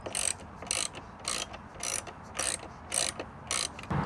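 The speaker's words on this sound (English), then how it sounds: "Let's go ahead and do that with the T30 ratchet." A T30 ratchet clicks in steady, evenly spaced bursts while loosening the seat lock on a Husqvarna Norden 901 motorcycle, each sharp ratcheting stroke close and crisp, about seven in a row.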